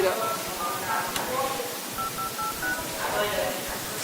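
A telephone number is punched in, a quick series of distinct beeping tones spaced irregularly over a few seconds, heard under people talking nearby.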